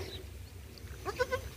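A goat bleats twice in quick succession near the end, fairly close and clear over low farmyard rumble, after a stretch of quiet background noise.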